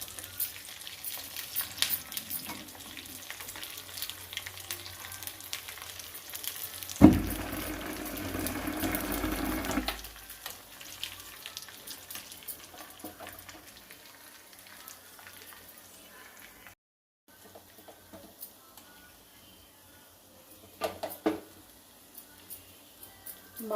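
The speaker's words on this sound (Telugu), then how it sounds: "గోడంబి, ద్రాక్ష, కొబ్బరి అన్నీ రోస్ట్ కావాలి బాగా." Cashews, raisins and grated coconut roasting together in a pan for sago and moong dal payasam. A loud, close sizzle bursts out partway through, then settles into quieter, steady frying with light stirring.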